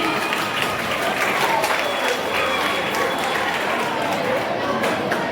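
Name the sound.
students applauding loudly for the guests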